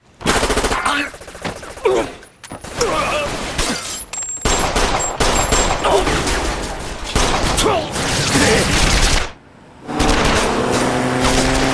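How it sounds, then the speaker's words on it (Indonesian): Rapid bursts of machine-gun fire and gunshots in an anime chase scene, loud and dense, broken by brief pauses and a short near-silent gap before the shooting resumes. "Kejar-kejaran tembakan-tembakan terjadi"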